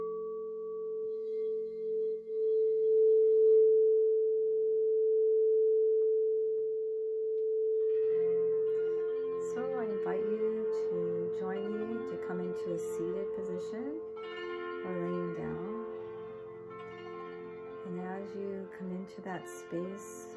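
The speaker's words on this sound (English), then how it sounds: "Today I am just going to do a short healing sound meditation using the harp and a crystal bowl." A crystal bowl and harp for a healing sound meditation: a long, steady ringing bowl tone sounds alone at first, then gently plucked harp notes join it and drift over the sustained hum.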